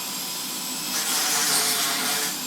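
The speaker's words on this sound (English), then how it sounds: "I got a rotary tool and it's got little sanding discs" A small rotary tool fitted with a sanding disc grinds against wood for bonsai staging, a steady high-pitched hiss and whine close by that swells louder midway as the disc bites, with no voices.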